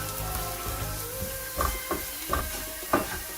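Spices and curry leaves crackle in hot oil while tempering for a Tamil vallarai sambal. A continuous sizzle is broken by a few sharp pops and clinks, with no voices.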